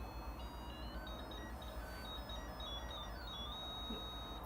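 Frantic electronic music from an R-Zone handheld video game, a stream of shrill stepping beeps and tones running steadily over a noisy, hissy background.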